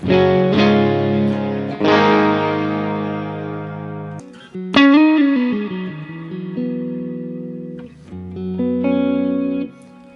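Electric guitar notes and chords through a Gibson EH185 amp model in Helix with reverse delay, with swelling, smeared tails and a sliding phrase, played alone and fairly loud.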